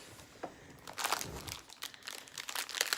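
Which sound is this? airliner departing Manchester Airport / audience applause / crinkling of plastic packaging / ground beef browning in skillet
crinkling of plastic packaging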